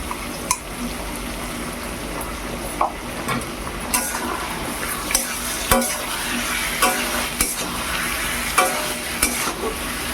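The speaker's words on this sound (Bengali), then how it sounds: "পেঁয়াজটাও একটু ভাজা হবে" Onion with ginger, garlic and green chili paste sizzles loudly in a hot pan, a steady crackle broken by regular scraping strokes of a spatula stirring every second or so, with no talking.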